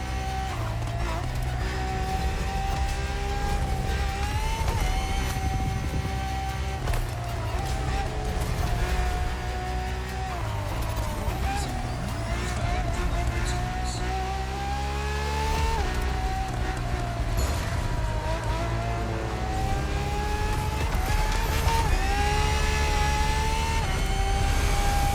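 Ferrari FXXK supercar engine in the racing game The Crew Motorfest, a loud, sustained high-revving roar with rising and falling pitch through repeated gear shifts, under a voice talking throughout.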